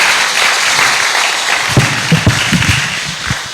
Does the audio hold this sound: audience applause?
yes